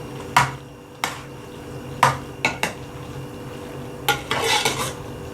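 A spoon stirs pasta through tomato sauce in a metal pot, giving sharp clinks and scrapes at irregular intervals against a low background hum, with a busier cluster of scraping near the end.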